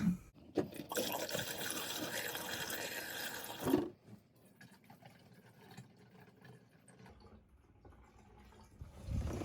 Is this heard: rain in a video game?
no